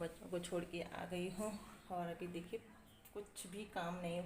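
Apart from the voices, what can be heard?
No everyday noises stand out.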